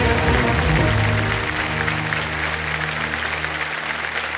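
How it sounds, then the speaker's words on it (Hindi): A studio audience on a television quiz show bursts into sustained applause, loud and dense at first and slowly easing. A faint voice and tones sit underneath at the start. "तालियां बज जाए सबकी ओर से।"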